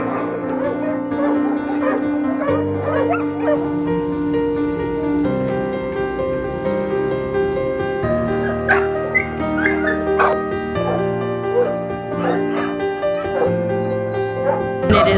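Dogs at an animal shelter bark, yip and whimper in a near, continuous chorus of overlapping calls, loud and without speech.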